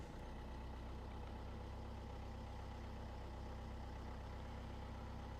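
A 2014 Mercedes A180 engine idles steadily after finally starting, a constant close rumble with no other sounds over it.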